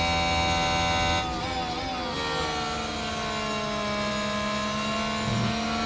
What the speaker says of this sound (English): listen to the revs drop